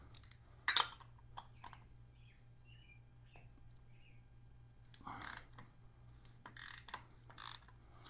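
A Toyota filter wrench works the oil filter off a Yamaha FJR1300 motorcycle, giving a few sharp metallic ratcheting clicks and scrapes in short bursts against a quiet background, with faint birdsong between them.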